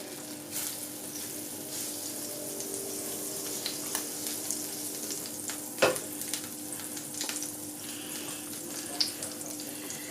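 Cakes frying in butter in a pan: a steady hiss and sizzle with scattered soft pops and clinks, including one sharper knock near the middle, with no voices.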